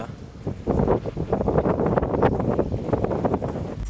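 Gusty morning wind with light drizzle at Phu Thap Boek, Thailand, buffets the microphone in rough, low rumbling bursts that continue throughout.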